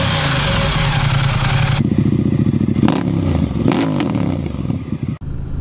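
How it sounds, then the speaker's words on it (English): A cruiser motorcycle with its stock exhaust runs close by with a loud, continuous low rumble. The tone shifts partway through and then carries on steadily. "I like the stock sound. It's a low rumble, it's not loud."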